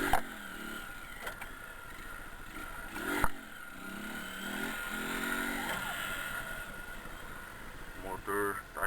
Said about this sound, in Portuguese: O motor tá esquentando.